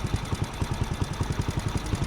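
A motorcycle engine runs steadily on a street in Lilongwe, Malawi, with a rhythmic low throbbing pulse like idling, loud and close with no talk.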